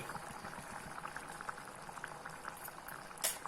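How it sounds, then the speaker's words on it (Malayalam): Cooked dal for a Rajasthani dal simmers at a steady rolling boil in a pot, a continuous close bubbling with soft pops and one brighter splash near the end, no voices. "നന്നായിട്ട് തിളയ്ക്കുമ്പോൾ നമുക്ക് നിർത്താം."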